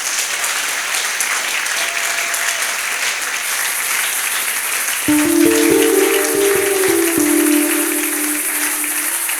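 A church congregation breaks into loud, steady applause during a sermon, rising suddenly over a murmuring hall with a sustained organ or keyboard chord droning underneath.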